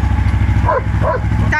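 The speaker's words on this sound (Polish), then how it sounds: "Bruno, przestań szczekać." A pet dog barks in a few short, sharp bursts close by, mixed with a steady low engine-like rumble and a background voice.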